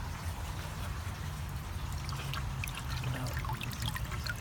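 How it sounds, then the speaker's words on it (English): Water spills over from a grow bed and drains through a stanchion pipe back down into a sump, giving a steady low trickling rush with faint splashes. No talking is heard. "Water feeds down at the other end of the bed and overflows down back here through the stanchion pipe"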